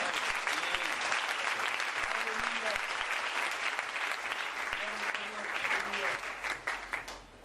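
A church congregation in Kinshasa breaks into sustained applause, dense and steady clapping from a large crowd that tapers off near the end, with faint voices mixed in.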